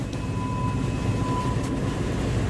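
Onboard a ship, a MAN B&W 6S60ME-C Mk 8.2 marine diesel main engine runs dead slow astern, giving a loud, steady low drone with faint tonal whines and no talk.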